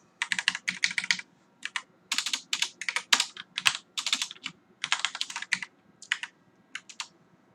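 Bursts of rapid typing on a computer keyboard, with quick clattering key presses in short runs and brief pauses between them, close and fairly loud with no talking.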